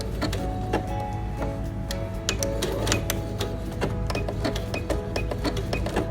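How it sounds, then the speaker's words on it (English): A sewing machine runs steadily, stitching a blanket stitch along machine applique on stabilizer, its rapid mechanical whir and needle clatter continuous and close throughout, with no talking. "Now I'm doing a blanket stitch here, and I'm going to do half of this as a blanket stitch"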